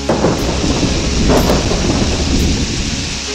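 A loud, continuous rumble of thunder with a heavy rain-like wash rolls on steadily for a few seconds, with no voices present.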